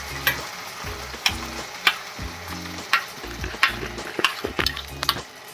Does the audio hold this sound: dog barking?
no